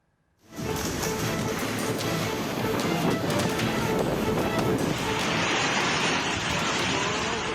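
Heavy rain driven by strong wind lashes an area of Depok, West Java, a dense, roaring wash of rain and gusts that rises suddenly and stays loud and constant throughout.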